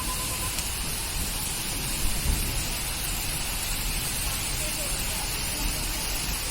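Rain pouring onto a main city road beside a dug-up construction stretch, a steady dense broadband patter and wash throughout, with no voices.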